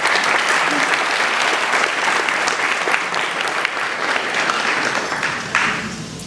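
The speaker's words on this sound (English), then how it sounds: "I think they deserve a round of applause." Wedding guests applauding during a best man's speech at a reception, a full, steady burst of clapping from a roomful of people lasting several seconds, with a few voices mixed in.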